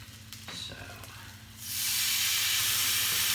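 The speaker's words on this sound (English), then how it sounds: "cook up some sausage while our dough is rising" Sausage frying in a hot pan while pizza dough rises, starting as a low background sizzle under kitchen hum, then swelling into a loud, steady hiss that fills the rest of the moment.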